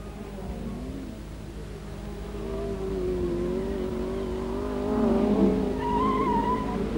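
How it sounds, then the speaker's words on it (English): Saloon cars from 1963 race round a circuit on the opening lap, their engines droning and climbing in pitch as the pack grows louder and nearer, with no talk over it. "Back to the racing as the saloons come cascading round on lap 1."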